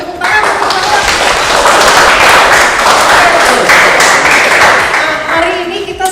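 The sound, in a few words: students clapping hands in classroom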